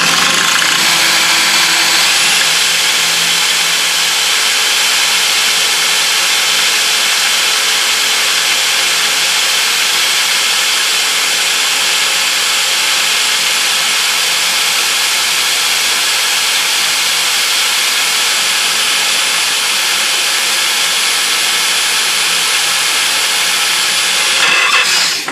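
A drill bores steadily into the metal of a custom chopper motorcycle, stepping up to progressively larger bits. A loud, continuous high whine with hiss runs unbroken for about twenty-four seconds, then cuts off near the end.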